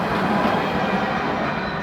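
Small metro train running near JBR marina beach in Dubai, a steady close rolling rumble with faint clickety-clack, no voices over it.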